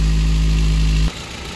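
A Toyota Etios petrol engine, previously misfiring, runs steadily with a loud, close low drone that cuts off abruptly after about a second, leaving quieter background noise.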